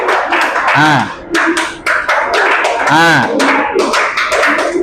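A group of children claps in rhythm for the scout guide clap, loud, sharp claps in quick patterned bursts, with an adult voice and children's voices calling out between them.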